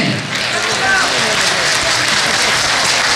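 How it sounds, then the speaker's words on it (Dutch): An audience at a stage performance claps in a dense, loud wash of applause that holds steady for a few seconds with no clear individual claps standing out. "Daarvoor een applaus."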